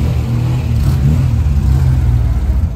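A Porsche Carrera's engine at a retro car rally in Bréançon runs as a steady, deep rumble close by, with a slight swell in the middle and no break or talk over it.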